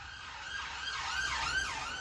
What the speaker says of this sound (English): sorry about the siren noises